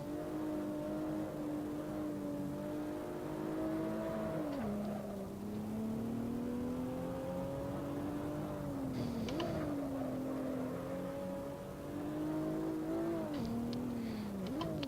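BMW 1M Stage 3 car engine in the Assetto Corsa racing game at Barcelona, revving hard with rising and falling pitch through gear changes, loud and continuous with brief dips between shifts.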